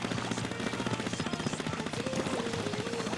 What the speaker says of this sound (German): Also manchmal kommen die Schüsse echt merkwürdig.